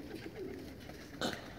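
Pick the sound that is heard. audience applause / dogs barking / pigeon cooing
pigeon cooing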